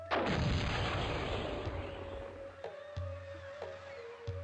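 In a Cossacks video game battle, a heavy cannon blast booms out, followed by several sharper, distant-sounding shots and echoing impacts, with a thin tonal hum running through.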